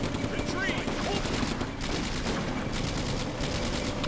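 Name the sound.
machine gun fire in video game Combat Mission: Afrika Corps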